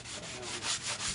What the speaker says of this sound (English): Now, when I do chalk paint, I sand the whole piece,